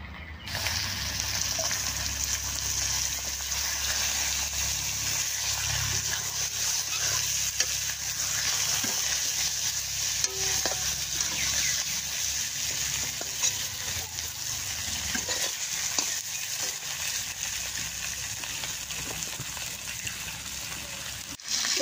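Shol fish frying in oil with onion, a continuous close sizzle with occasional stirring and clinks of a utensil against the pan, no talking over it.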